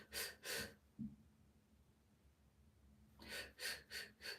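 A person imitates Cheyne-Stokes breathing: a pair of quick, shallow, audible breaths, then a long near-silent pause, then a renewed series of rapid breaths, all close and quiet.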